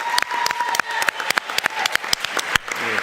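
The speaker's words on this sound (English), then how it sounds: "She deserves a round of applause for that." Applause from a community public safety meeting audience, a short burst of close, uneven hand claps with a few louder individual claps standing out.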